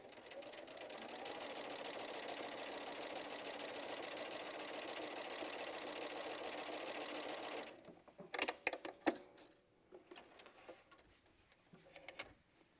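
A sewing machine runs continuously for several seconds while top stitching quilt strips, then stops, followed by a few clicks and handling noises.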